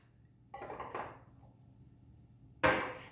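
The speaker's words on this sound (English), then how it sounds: "we're going to muddle some fruit right into our cocktail" A bartender drops a cherry into a glass and muddles it for an Old Fashioned cocktail, giving a few quiet, close knocks and grinds against the glass, then one sharper clink, with no talking.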